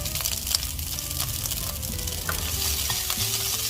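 Mackerel fried rice with holy basil being stirred in a hot pan, continuous sizzling with quick scraping strokes of a utensil, close and busy.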